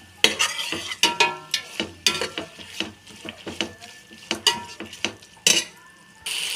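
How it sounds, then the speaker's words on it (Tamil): Mint and coriander leaves are sautéed in a pan for Ambur mutton biryani. A utensil stirs in quick, repeated scrapes and clinks over a soft sizzle, close to the listener and busy throughout. "இது எல்லாமே நல்லா வதக்கி விட்டுருங்க."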